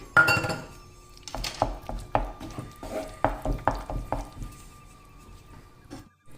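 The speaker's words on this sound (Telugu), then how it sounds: "ఇప్పుడు నేతిలో ఫ్రై చేసుకున్న మనం డ్రై ఫ్రూట్స్ ఉన్నాయి కదా అవి కూడా వేసేసుకున్నానండి ఇంకా వేసేసుకొని మంచిగా కలుపుకొని దించేసుకోవడమే" Spoon stirring ghee-fried dry fruits into sweet potato kesari in a metal pan, giving a run of sharp clinks and scrapes in an uneven rhythm, fairly close, then settling quiet at the end.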